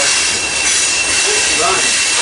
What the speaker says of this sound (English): another train's going by